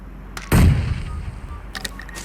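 A grenade blast inside a house in the shooting game PUBG Mobile: one sharp, loud explosion with a short rumbling decay, followed by faint clicks.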